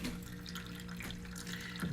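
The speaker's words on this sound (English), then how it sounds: "The water is leaking all over." Water leaking from a water heater makes a steady, continuous trickle and spray close by, with a constant low hum running underneath and no talking.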